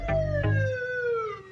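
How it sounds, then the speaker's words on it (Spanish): A fire truck siren wails loudly and close, its tone sweeping in long falling glides over a deep rumble, with no talk over it. "Creo que no, pero hay un camión de bomberos."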